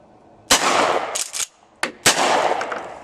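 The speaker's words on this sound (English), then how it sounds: "I'm going to shoot a couple rounds off just to see how well it cycles through a pump shotgun" Two loud, close blasts from a pump shotgun firing Aguila 12 gauge minishells, each with a long booming tail, separated by the quick metallic clack of the pump action being cycled.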